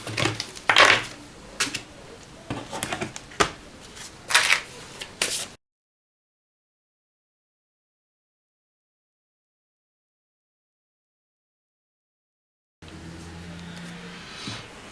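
Tarot cards being shuffled in short, crisp riffles and slaps close by, a busy burst of card noise that cuts to silence and returns as a faint, soft rustle.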